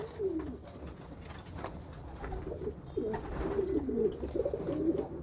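Pigeons coo steadily at a squab and young homing pigeon auction, several soft throaty calls overlapping through the stretch with a low background hum.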